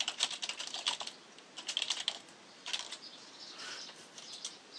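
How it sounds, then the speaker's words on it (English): Fast, light clicking of a computer keyboard as text is typed in, steady bursts of keystrokes close by with no talking. "you just click the pencil, and you start typing in."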